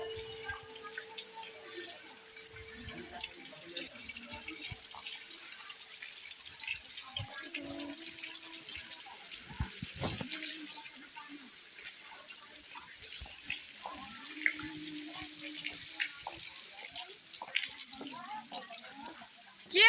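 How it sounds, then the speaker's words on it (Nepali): Water pours steadily from the 108 spouts at the Muktinath temple, a continuous splashing flow with occasional drips and knocks, while people talk nearby at intervals. "108वटा धारा भएकोमा"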